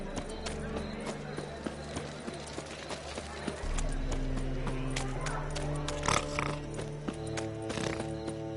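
Horse hooves clip-clop at a gallop in The Witcher 3, a steady pounding rhythm under loud voices and game music, with a whinny.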